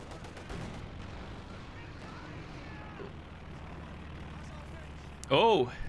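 Artillery firing in a video game battle: low booming and rumbling gunfire runs under game noise, with a sudden loud burst near the end, and a voice talks or shouts over it.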